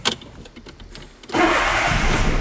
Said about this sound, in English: So the moment of truth, let's start the car.